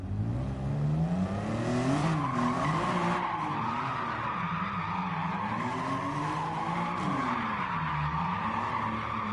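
A car drifting in Gran Turismo 7, tires squealing continuously with a wavering pitch as the engine drones underneath, loud and close throughout the long slide around a circle.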